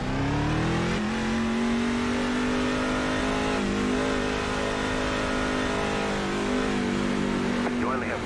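A race truck engine accelerating in the iRacing video game at a Daytona Truck Series event, a loud sustained rising engine drone with steady harmonic tone and a brief gear change, heard under faint background voices.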